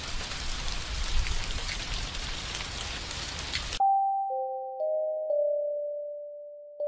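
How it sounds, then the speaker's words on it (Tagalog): Dense, steady rain pours hard for a few seconds, then cuts off abruptly and gives way to a ringing chime. "bumuhos ang malakas na ulan"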